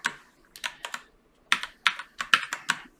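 A computer keyboard being typed on during Android Kotlin coding, with about a dozen crisp, close key clacks in quick irregular bursts, ending on the Enter key.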